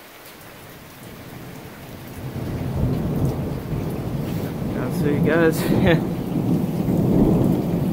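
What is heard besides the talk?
thunderstorm with thunder and heavy rain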